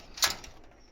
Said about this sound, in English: the door catch